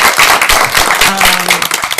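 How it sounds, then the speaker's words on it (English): Audience applause for the moderator at a public policy briefing on economic resilience: a short, dense burst of clapping that holds steady for about two seconds. "so a round of applause for also our moderator, the Honorable Bill Flores"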